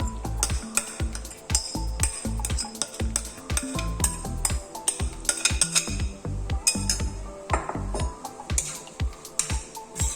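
A spoon scrapes and clinks against a wok while masala is mixed into lemon pickle, with rapid, irregular metallic taps and knocks heard close up throughout.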